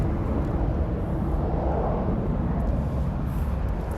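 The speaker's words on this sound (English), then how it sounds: "Really cool plane just landed." An airplane that has just landed at the LA airport, a continuous loud jet roar heard from a distance, steady and unbroken.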